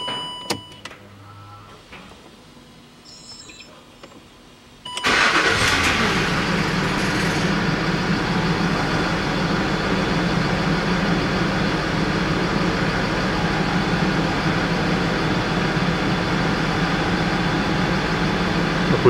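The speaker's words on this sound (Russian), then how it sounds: "Прикручиваем клемму аккумулятора и пробуем запускать. Запускаем." A Land Rover Discovery 3 engine cranks and starts after battery reconnection and turbo replacement, settling into a loud, steady idle close by after a few quiet seconds of small clicks.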